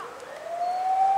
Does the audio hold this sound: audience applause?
no